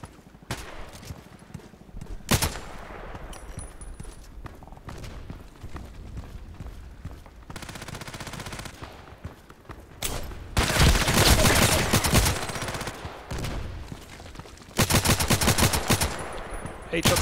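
Assault rifles fire in the shooter game Contract Wars: scattered single shots early on, then loud sustained automatic bursts, the longest near the middle and another toward the end.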